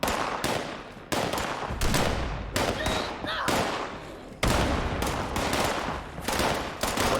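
Bursts of gunfire in the post-apocalyptic game Fallout 76, broad sharp volleys at a settlement, loud and close with brief gaps between clusters of shots and some talk mixed in.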